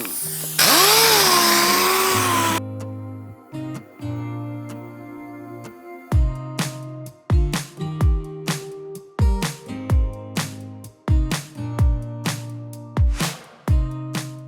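A power sander working on Jeep car paint whirs in repeated short bursts, revving up and cutting off in a steady rhythm, close and moderately loud.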